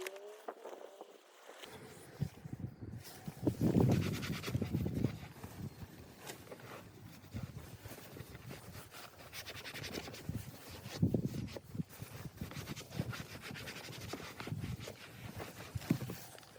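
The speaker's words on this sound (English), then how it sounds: "You just need a few dots on a microfiber pad and rub both ways into the leather grain" Leather balm is rubbed back and forth on a microfiber pad across the leather seats of a BMW 320d SE Business E91, giving soft repeated scratchy scrubbing strokes, close and fairly quiet.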